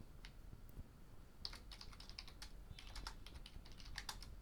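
Quick, light keystrokes on a computer keyboard, close up and faint over a steady background hiss, with short bursts of several taps while a level name is typed.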